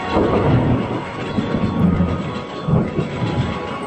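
A moving train used as a sound effect in a radio drama: a steady, loud rolling rumble with rhythmic surges, heard alone without any voices.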